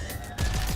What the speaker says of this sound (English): Gun shoot!